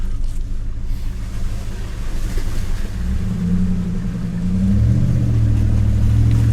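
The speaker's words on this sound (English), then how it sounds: "I can hear the engine obviously, but I can also hear the ice crunching under the tires and the water shifting" A Hemi-powered Jeep Gladiator rumbles along a partly frozen Ozarks trail, its engine loud and close, rising into a heavier, deeper drone partway through as the tires work over ice and water.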